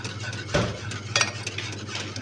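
Chocolate cake batter made with cocoa and milk being stirred in a bowl, a few soft scraping strokes and a utensil clink against a steady low hum, no talking.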